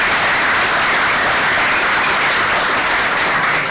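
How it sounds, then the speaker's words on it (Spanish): An audience at an economics meeting applauds an honorary doctorate with steady, dense, loud clapping that holds unbroken throughout. "diría que un aplauso por ese reconocimiento"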